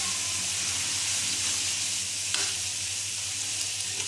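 Minced garlic fries in hot ghee with a loud, steady sizzle and hiss throughout, broken by a faint scrape or tap of a spoon midway, with no one talking.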